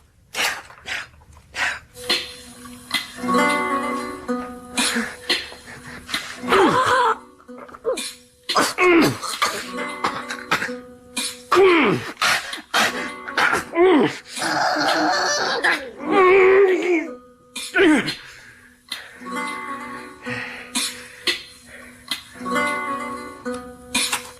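Repeated harsh coughing mixed with throat sounds and talk in an old-time radio thriller drama, loud and close, coming in uneven bursts over a long stretch.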